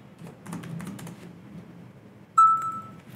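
Soft keyboard typing clicks and taps for about two seconds, then a single clear electronic chat-app beep rings out and fades.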